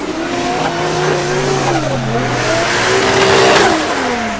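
Drift cars at an Irish drift event rev hard, engine notes rising and falling loudly and fairly close, with tyres squealing in long wavering screeches and no voices over the din.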